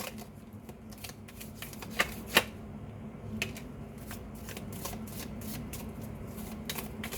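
A large deck of about 200 cards being shuffled by hand, a fast rippling riffle of crisp flicks and slaps, close and fairly quiet, with a couple of sharper snaps early on.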